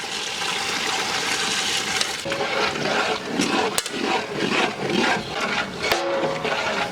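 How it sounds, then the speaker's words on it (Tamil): Five litres of water pouring steadily into a biryani cooking pot, a continuous splashing gush with some clunks, loud and close. "5 லிட்டர் தண்ணி சேர்த்துப்போம்."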